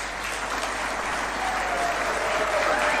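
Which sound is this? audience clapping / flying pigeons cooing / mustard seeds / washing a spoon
audience clapping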